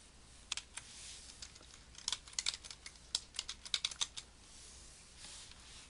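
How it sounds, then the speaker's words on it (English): Keys clatter on a computer keyboard as text is typed into a word processor, with close, crisp clicks coming in irregular bursts and short pauses, and no voices. "And now when I type text"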